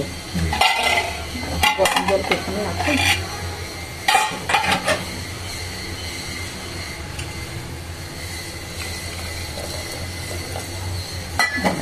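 Spatula stirring broken wheat khichdi in a pot, giving intermittent scraping and clinking strokes in short bursts over a steady low kitchen hum, fairly close.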